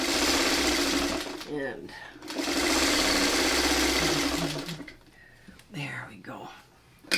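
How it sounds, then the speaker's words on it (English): A sewing machine stitches fabric in two long, steady, loud whirring runs separated by a brief pause, with someone speaking softly between bursts. "I'm sewing this on the wrong side because all the seams are on the bottom"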